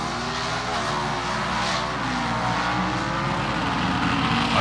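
Roaring Pro Stock drag racing cars at full throttle launching off the starting line at the 1976 NHRA Gatornationals, a loud sustained rising drone as they accelerate hard away.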